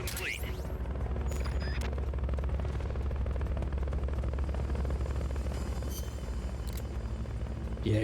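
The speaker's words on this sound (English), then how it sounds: "Fulton recovery helicopter" Fulton recovery helicopter in Metal Gear Solid: Peace Walker, a loud steady rotor drone throughout with a low thudding beat, with a few brief sharp game effects layered on top.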